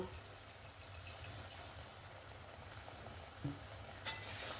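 Spices and sugar stirred and frying in a pan for a Bengali fish-head and cabbage dish, a soft steady sizzle with light scraping and an occasional clink of the spoon.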